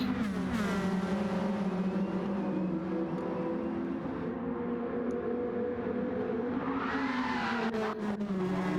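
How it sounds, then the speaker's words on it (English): In a racing video game, a high, wavering tire squeal rises over a steady race car engine drone, with a brief louder whine near the end. "a little tire squeal"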